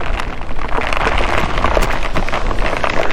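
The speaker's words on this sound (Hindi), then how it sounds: "ये बारिश बहुत खतरनाक है, हवा बहुत जोर जोर से चल रही है, आंधी जैसा है।" Heavy rain pours down hard and steadily with gusty, storm-like wind roaring through it, loud and close, no voices, during a motorbike ride.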